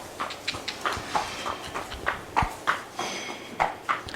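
A five-year-old racehorse gelding walks on a hard surface, its hooves clip-clopping in a steady, fairly close rhythm of distinct knocks, with faint background noise and no talk.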